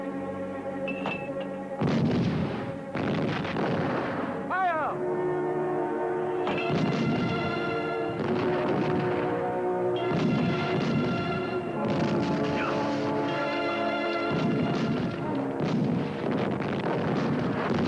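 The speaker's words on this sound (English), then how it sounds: "They're preparing to attack us with mortars." Mortar fire booms through a 1969 war film about the Battle of El Alamein, heavy repeated blasts and rumbling impacts over a layered soundtrack, loud and continuous with several distinct hits.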